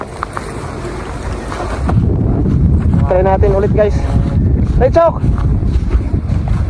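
Strong monsoon wind buffets the microphone outdoors, a loud, steady, roaring rumble that builds after the first couple of seconds while people talk over it.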